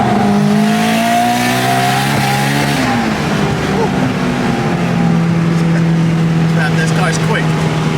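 An Acura Integra GS-R converted to all-wheel drive accelerates hard, the engine note climbing in pitch through a gear, a brief dip at a shift, then pulling again, loud and close from inside the car.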